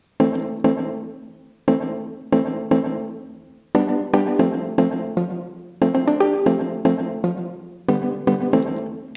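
Synth mallet riff from Logic's Alchemy, a short repeating pattern of plucky struck notes with quick decays, loud and clear with no voices, looping through a chord progression.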